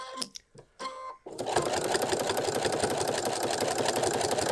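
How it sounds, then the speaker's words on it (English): A sewing machine stitches around a quilted cafetière cover made with Thermolam, opening with a few short stop-start bursts and then running in a steady, fast, close whir. "Lower the needle, and then you're just going to stitch around all 4 sides."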